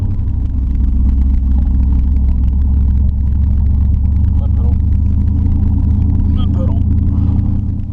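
A 1968 Dodge Charger R/T 4-speed engine rumbles steadily with low, continuous drone, heard from inside or close by, with voices talking over it.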